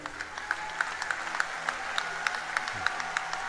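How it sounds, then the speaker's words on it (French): An audience claps in a steady, rhythmic beat, sharp regular claps of moderate loudness repeating about three times a second, with a low sustained hum underneath. "vous applaudir très fort"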